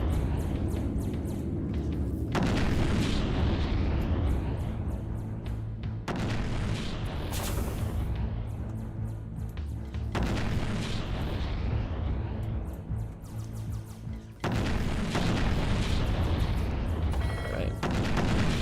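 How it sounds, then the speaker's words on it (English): Ship guns firing in a space-sail naval battle in the game Treasure Planet: Battle at Procyon: repeated heavy booming cannon blasts, each with a long rumbling tail, rolling on over steady low engine drone while someone talks. "Guns are in range, now they're doing the work."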